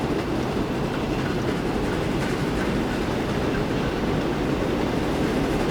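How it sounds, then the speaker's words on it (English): Two express trains pass each other in Transport Fever 2, a loud, continuous rumble and clatter of wheels on rails that holds steady without pause. "Two express trains going past each other."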